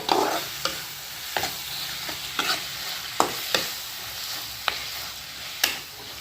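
Tomato masala with curry leaves and coriander leaves sautéed in a pan for chicken curry, a steady close sizzle punctuated by regular sharp spatula scrapes and knocks, and no talking.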